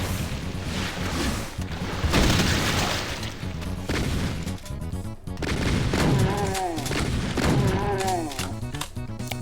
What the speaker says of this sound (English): I'm gonna use these rockets, because why not?